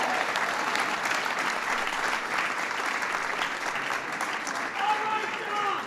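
Sustained applause from an audience at an LGBT Pride reception, a steady dense wash of clapping lasting several seconds, with a voice starting up near the end.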